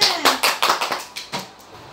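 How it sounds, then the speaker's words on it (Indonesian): Schoolchildren clap in an elementary classroom to praise a classmate who presented, with about half a dozen loose, uneven claps close by that fade out within two seconds. "Bertepuk tangan semuanya."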